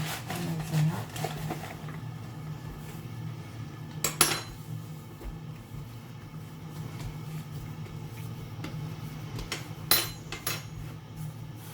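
A knife cuts honey cookie dough on a board, giving soft muffled taps and a couple of sharper knocks against the wood over a low steady background hum.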